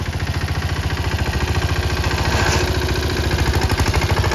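Mahindra Yuvraj 215 tractor idling nearby, a loud steady diesel chug with rapid regular knocking pulses that holds constant throughout, no speech.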